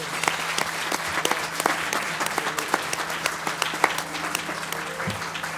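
Audience applause at the International Women's Forum after an honoree's speech, a dense, steady burst of clapping from a large crowd that runs throughout, with a low hum underneath.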